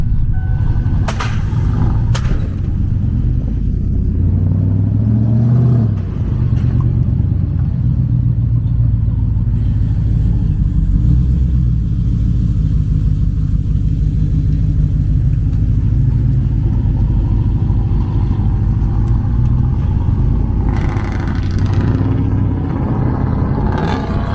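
A loud GM Chevrolet Silverado pickup engine rumbles continuously nearby, deep and throaty, with occasional revs and clatter over the steady low drone.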